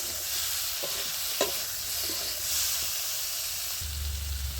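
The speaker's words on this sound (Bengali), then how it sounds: "শিমের সঙ্গে ভালোভাবে মিশিয়ে নিচ্ছি।" Flat beans tossed with turmeric in a hot pan, a steady bright sizzle with a few soft scrapes and taps of the spatula, close and continuous with no talking.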